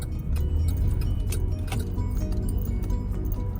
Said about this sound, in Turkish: Arkamdan da arabalar geliyor.